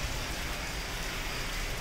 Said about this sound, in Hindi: बाहर बारिश भी हो रही